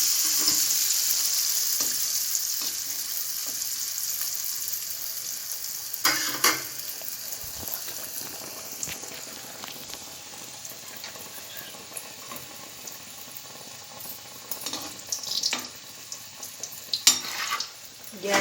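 Dudura pitha, an Odia rice cake, frying in a pan over a high gas flame, with a steady hiss of oil throughout and occasional clinks and scrapes of a utensil, close up and without talk.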